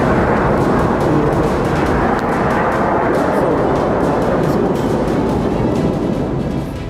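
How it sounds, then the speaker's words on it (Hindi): Iranian missile strikes exploding in daylight during an attack on Israeli airbases, a continuous heavy roar of blasts and rumbling, loud and dense throughout without distinct pauses. "दिन के उजाले में भी ईरान की मिसाइलें भीषण धमाके करती रहीं।"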